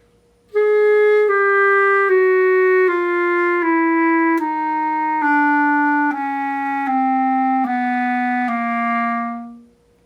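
Piano bass notes played by the left hand step downward one at a time, about nine evenly paced notes in a descending chromatic run, played clearly and alone.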